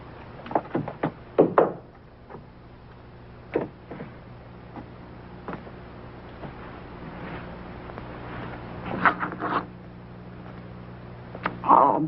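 Knocks on a wooden door, a few sharp raps in short clusters spread over quiet room tone, fairly close and moderately loud with pauses between groups.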